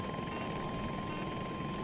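An attack helicopter in the video game Battlefield 2042 drones as a steady, muffled rotor and engine hum in the distance, quiet and continuous throughout with no talk.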